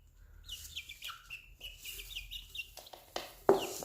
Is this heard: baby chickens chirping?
yes